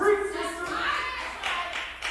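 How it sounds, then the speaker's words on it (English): An audience claps briefly at a comedy show, a short spatter of hand claps partly buried under a voice talking over it. "Don't clap for that"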